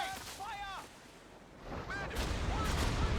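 Wartime battle sounds from a Company of Heroes 3 match during an aircraft strafing run: bursts of rapid gunfire and rumbling impacts that swell louder toward the end, with whistling tones early on and a commentator's voice over parts of it.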